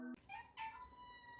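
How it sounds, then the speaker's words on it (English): A pet cat indoors lets out a couple of short, high, drawn-out meows, quiet and close by, after a brief tonal sound at the start. "Oh, that's my cat."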